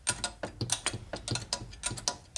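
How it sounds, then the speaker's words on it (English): A 5/8 wrench ratchets nuts onto a 1965 Harley-Davidson 74ci FLH panhead motor, chrome in the threads adding drag; a steady run of quiet, close metallic clicks sounds alone. "takes a 5/8 wrench on these earlier nuts"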